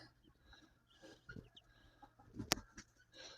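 Chickens clucking softly at close range with scattered scratching and rustling, faint overall, with one sharp loud click partway through.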